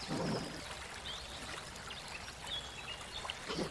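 Cartoon stream water flowing and trickling steadily, a soft continuous wash with faint bird-like calls over it, no speech.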